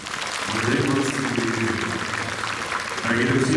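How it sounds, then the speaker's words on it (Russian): Crowd applause at the opening ceremony of the 2023 Russian Freestyle Skiing Championship, a dense, steady wash of clapping lasting the whole moment, with a voice or tonal sound running underneath and swelling briefly near the end. "под ваши бурные аплодисменты"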